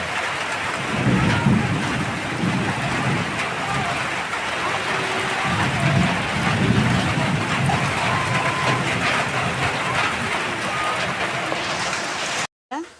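Heavy rain pours during a thunderstorm, a loud continuous hiss with rumbling thunder rolling underneath, steady for several seconds before cutting off abruptly near the end.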